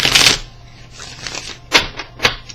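Crisp riffling bursts of cards being shuffled, a long rustle followed by several shorter snaps, close and loud with no talking.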